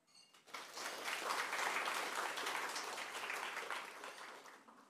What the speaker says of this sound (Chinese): 我们再一次热烈掌声